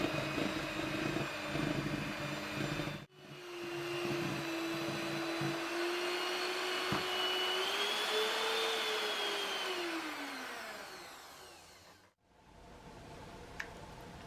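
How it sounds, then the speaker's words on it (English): An electric whisk beats buttercream in a bowl with a steady close motor whine that shifts slightly in pitch as the mixture thickens, cutting off briefly and then stopping near the end; nobody speaks. "Finish off by beating it with an electric whisk until smooth."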